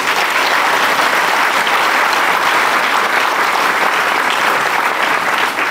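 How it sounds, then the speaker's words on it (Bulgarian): Sustained, loud applause from an audience filling a hall at the Stara Zagora mayor's term report event, dense and steady clapping throughout with no pauses. "И за това им благодаря и заслужавате вашите аплодисменти"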